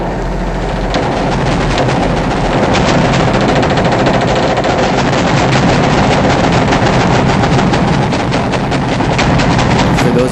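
Intense sustained gunfire at a mosque, rapid loud machine-gun bursts and overlapping shots forming a continuous dense barrage for the whole stretch, with heavy booms mixed in.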